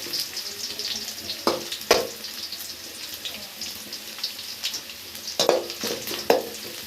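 Onions frying in a pan until reddish for an okra stew: a continuous soft sizzle with intermittent louder crackles and stirring scrapes, close by, no speech.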